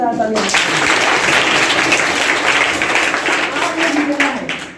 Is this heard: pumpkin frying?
no